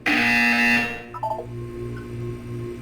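A buzzer sounds in the video game Portal 2, starting with a loud harsh tone that cuts off after about a second. Softer electronic blips and a low hum follow.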